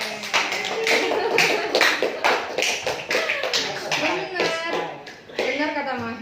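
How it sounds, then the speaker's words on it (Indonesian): Classroom students clap their hands for a classmate during a school guidance lesson on time management, scattered uneven clapping mixed with children's voices and chatter. "tepuk tangan dong buat Mahen"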